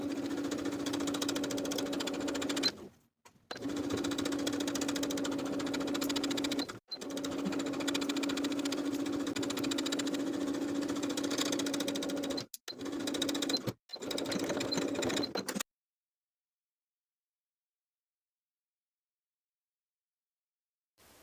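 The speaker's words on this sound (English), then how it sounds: "I'm going to sew just above the main binding seam line all the way around" Sewing machine stitching just above the binding seam line on a Simplicity 8454 garment, running in steady bursts of roughly three to six seconds with short pauses between, fairly close and clear, with no talking.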